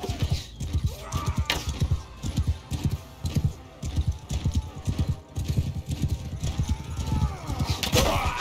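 Horses in battle in Mount & Blade II Bannerlord, rapid galloping hoofbeats with clip-clop thuds, an occasional neigh and combat impacts, mid-distance and busy, with brief talking over the fighting.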